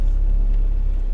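A car engine running steadily at close range on a chilly, damp morning, a low continuous rumble with no voices over it.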